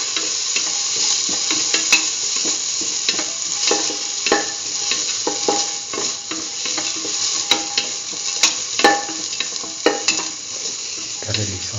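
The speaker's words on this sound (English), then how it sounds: "Thoroughly sauteing it." Onion pieces sautéing in a pan, seasoned with salt, give a steady loud sizzle broken by frequent scraping stirs and utensil taps against the pan, continuing for the whole stretch with no talking.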